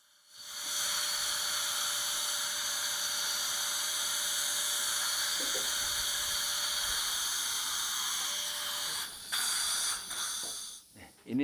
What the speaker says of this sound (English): I'm drilling full length to flatten this area.